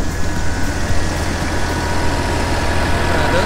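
A silage harvester cutting grass on an Irish farm, pulled by a tractor, gives a steady, loud engine drone with a deep low rumble that holds unbroken the whole time, with no talk over it.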